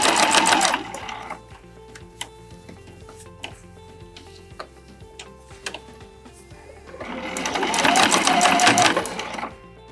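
A sewing machine runs in two bursts stitching a single seam around a small scrap-fabric tote bag, loud rapid whirring at the start and end with quieter handling and clicks in between.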